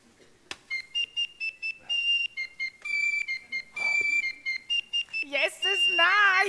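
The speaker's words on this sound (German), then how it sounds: "Zunächst braucht man ein paar Piccolo-Flötenklänge." AI-generated piccolo flute tones meant as Basel Fasnacht carnival music: a bright, shrill run of short repeated notes in a halting rhythm, joined at the end by a wavering, warbling whistle.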